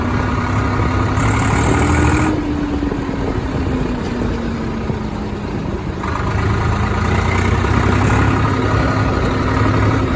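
A tractor engine idles and runs steadily at close range while ploughing a field. The deep, even drone holds at a constant level with no break.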